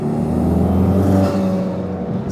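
An Acura Integra Type S with a Milltek exhaust runs with a steady, close, moderately loud engine drone and a slight rise in revs, heard from inside the car with no talking.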